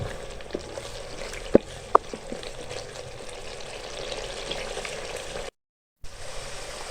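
Garlic ginger paste frying in a pan for a chicken chana curry, a steady close sizzle with a couple of sharp clinks early on and a brief gap near the end.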